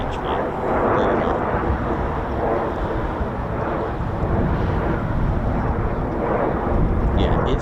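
Military jets at a base airshow practice, Red Arrows or RCAF F-18 Hornets, give a steady broadband roar that swells and fades over the whole stretch, with wind buffeting and people talking over it.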